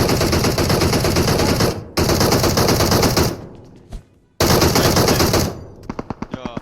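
Gunfire in the PUBG Mobile shooter game: loud, close sustained automatic bursts broken by short gaps, ending in a few separate sharp shots.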